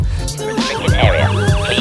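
A CCTV security camera's built-in intruder alarm sounds a loud, close electronic siren with rapidly sweeping, warbling tones that repeat over a couple of seconds. No speech is heard.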